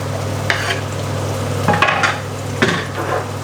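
Red chilies fry in a pan among tomatoes and their juice for pasta puttanesca, a steady low sizzle broken by several brief stirring and utensil clinks against the pan, with no speech.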